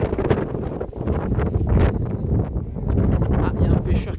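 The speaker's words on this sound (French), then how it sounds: "le vent s'est levé" Gusting wind buffets the microphone outdoors at a waterside spot near an airport, a steady broadband roar with swells and dips that never fully dies away.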